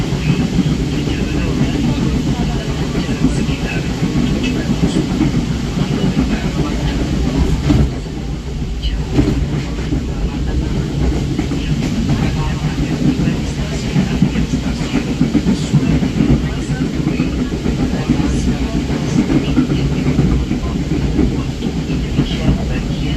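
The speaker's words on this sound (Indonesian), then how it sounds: "Kereta api Dharma Wangsa persiapan bentar lagi akan melintas langsung di stasiun Jatinegara" Dharmawangsa train passing straight through Jatinegara station on double track, a steady loud rumble of rail noise and wheel clatter lasting throughout, with a brief dip partway.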